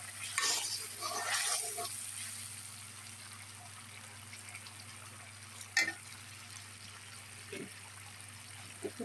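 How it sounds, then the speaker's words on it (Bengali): Water poured onto spices frying in a pan while cooking an egg curry: a loud hissing sizzle bursts at first, then settles into a quieter simmer broken by a few sharp scrapes of stirring. "বন্ধুরা দেখুন, আমি এখান থেকে কিছু জল অ্যাড করছি"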